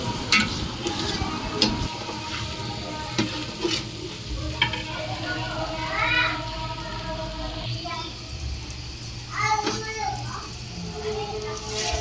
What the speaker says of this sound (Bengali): তেলে ভালো করে ভেজে ভেজে নিলে চালটা সুন্দর হয়